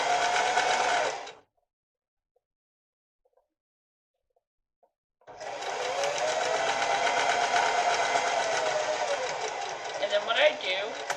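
Sewing machine stitching elastic onto a fabric face mask, with a backstitch over the elastic; a steady close whirring run, a pause of about four seconds, then another long stretch of stitching.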